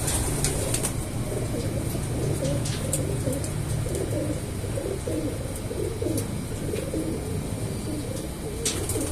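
Low, rolling cooing from several pigeons, continuous and overlapping, with occasional scuffs and clicks nearby in a busy loft.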